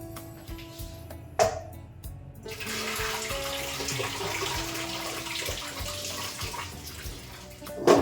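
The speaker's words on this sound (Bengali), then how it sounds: "ভাতের ফ্রেনটা ঝরিয়ে নিই আগে।" Starchy water poured off a pot of boiled rice in a home kitchen, a steady splashing and running stream that holds for several seconds, with a few clinks of the pot at the start and at the end.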